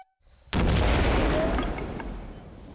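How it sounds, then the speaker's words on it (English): A gunpowder explosion set off in a bomb test: one sudden, very loud blast that stays powerful for a moment, then leaves a long, slowly fading rumble. "We repeat the same test with gunpowder."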